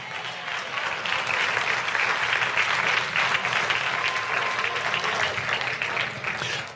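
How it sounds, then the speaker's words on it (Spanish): A church congregation claps in steady, dense applause that holds at a constant loud level for several seconds before easing off at the end. "denle aplauso al Señor"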